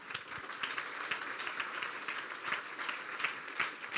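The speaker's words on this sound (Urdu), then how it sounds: "اس لیے اپنے لیے تالیاں بجا دیں." Congregation applauding during a church sermon, a dense, steady wash of many hands clapping together for several seconds, fairly loud and continuous with no voices over it.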